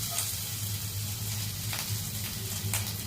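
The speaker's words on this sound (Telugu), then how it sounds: "కట్ చేసి పెట్టుకున్న వెజిటేబుల్స్ అన్నిటిని యాడ్ చేసుకొని ఫ్రై చేసుకోవాలి" Chopped vegetables fry in ghee with cumin and ginger, garlic and turmeric in a pan. They crackle with a steady close sizzle, with occasional sharper spits and pops over a low hum.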